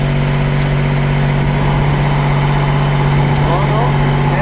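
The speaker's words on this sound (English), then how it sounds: "Can you just stop the engine once? Okay, and restart." The Mercedes-AMG ONE hypercar engine idles after a restart: a steady, loud, close mechanical hum with a constant tone throughout, with voices faintly present in the background.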